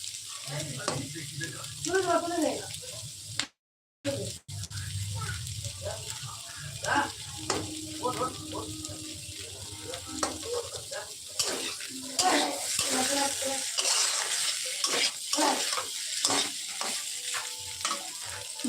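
Capsicum and boiled potatoes frying in spice masala for a Bengali soyabean curry, a soft continuous sizzle punctuated by spoon scrapes and stirring clinks, with someone speaking throughout and a brief dropout near the start.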